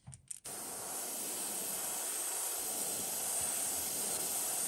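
A paint spray gun blows out water before painting a fishing lure, starting with a few brief sputters and then settling into a steady, sustained airy hiss that runs to the end.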